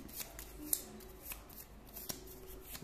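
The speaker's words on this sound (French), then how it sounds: "Je le remélange dans le paquet du coup." Gloomhaven board game cards being shuffled back into a deck at a table, soft papery riffles and light taps with a couple of sharper snaps, quiet and close.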